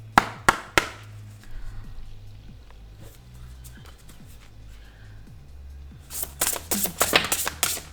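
Tarot cards being shuffled and cut for a card reading: a few sharp riffles at the start, soft handling and light taps in the middle, then a dense burst of crisp card shuffles near the end, with a faint voice in the background.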